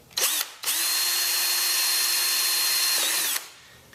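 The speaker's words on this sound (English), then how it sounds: "The next spot, I'll just drill through." A power drill boring through a water bottle rocket launcher, with a brief whine, a short pause, then one sustained, steady, high-pitched run of about three seconds before it spins down, loud and close with no talking.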